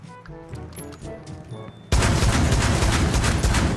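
Rainbow Six Siege gunfire cuts in suddenly as a loud, dense burst of rapid shots. Before it, quieter game sounds and a voice are heard, and the firing then continues steadily to the end.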